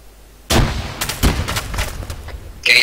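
A frag grenade goes off in Arma 3 during ground ops training, a sudden loud blast with a rumbling tail that fades over about two seconds before another burst of sound.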